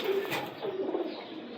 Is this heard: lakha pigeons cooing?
yes